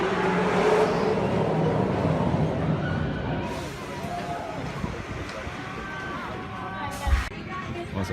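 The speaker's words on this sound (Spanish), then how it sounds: "Maranello Grand Race, que son coches eléctricos que conduces rollo Autopia en los parques Disney" Electric Ferrari ride cars on the Maranello Grand Race track at a theme park, a whirring motor hum under crowd noise and chatter, fading somewhat, with a sharp knock near the end.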